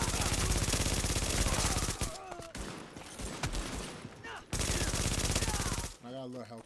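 Rapid automatic gunfire in the video game The Division, with dense bursts of fire broken by short pauses and game voice lines spoken over the shooting.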